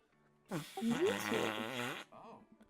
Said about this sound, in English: does the thing where he blows into the crook of his elbow to make a fart noise